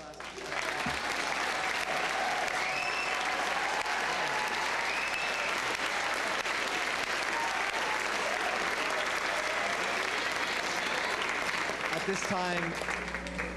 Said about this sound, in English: Can we have one more round of applause for this great class?